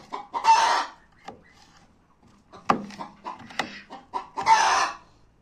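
Chickens cluck nearby in short, scattered bursts, with a couple of louder squawks in a quiet setting inside a henhouse.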